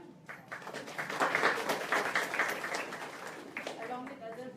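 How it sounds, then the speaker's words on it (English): An audience of a talk on autism applauding, a dense burst of clapping that swells and then fades. "So let's clap for her."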